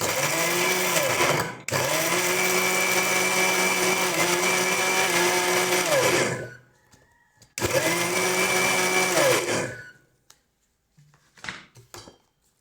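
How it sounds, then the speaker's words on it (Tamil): Electric mixer grinder whirring loudly as it blends rose apple (jampakai) into juice, running in two long bursts with a brief pause between and stopping after about ten seconds, followed by a few faint clinks. "நல்லா இதை நமக்கு கிரைண்ட் பண்ணணும்."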